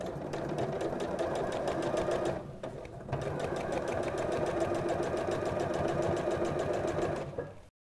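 A sewing machine runs steadily while topstitching a seam, its rapid, even needle rhythm carrying loud and close for about seven seconds, broken by one brief pause near the start.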